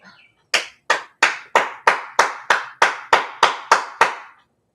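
Twelve sharp hand claps in a steady, evenly spaced rhythm outdoors, made to call a dog in from its doghouse; each crisp, close slap rings out alone against near silence.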